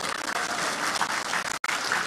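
An audience at a religious gathering breaks into applause, a dense, loud, continuous clatter of many hands with a brief cut near the end.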